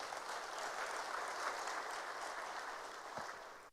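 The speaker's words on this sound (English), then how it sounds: "there's the need for one more applause for Kenya" Audience applause for Kenya at the African Development Bank 2024 Annual Meetings: a steady, fairly faint wash of many hands clapping, sustained evenly before cutting off abruptly.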